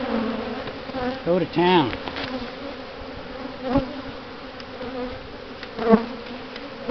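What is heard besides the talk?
honeybees buzzing at a hive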